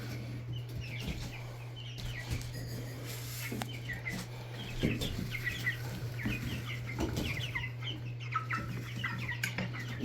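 Roosters cluck and chatter steadily in a hot enclosure, their close, overlapping calls sitting over the constant low hum of a running fan.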